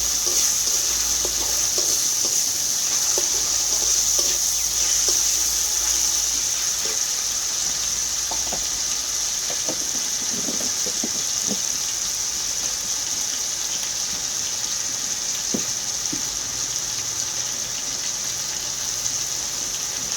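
Garlic paste fries with pointed gourd leaves and vines in a pan, giving a continuous loud hiss with occasional light stirring clicks throughout, close up and without speech.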